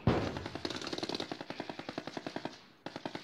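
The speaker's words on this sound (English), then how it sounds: "Where's that shooting?" Automatic gunfire in the Call of Duty Warzone video game, a rapid steady burst of about twenty loud sharp shots, a brief pause, then the firing resumes.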